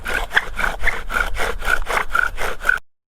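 A wooden bow drill with salmon-skin cordage is being bedded in. It makes a rhythmic back-and-forth rasping and squeaking, about ten close, loud strokes at a steady pace, then stops abruptly.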